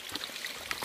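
A brook flows beside a hiking trail near Eagle Rock in Big Moose Township, a soft, quiet burble and trickle of water with small splashy bursts heard on its own.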